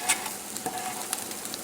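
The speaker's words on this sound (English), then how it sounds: "I'm going to put the broccoli in first, just to saute it for a minute with the butter" Broccoli sautéing in butter in a pan for an omelette, a steady close sizzle with a few light pops and stirring scrapes, no voices.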